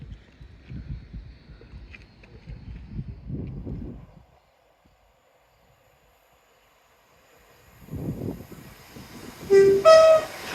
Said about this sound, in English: Happy train!